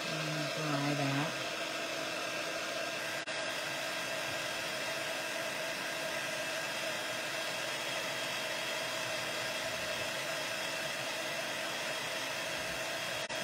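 A hair dryer blows steadily on freshly applied chalk paste on a craft project, a continuous whooshing hum that runs loud and unbroken from start to finish with no talking over it.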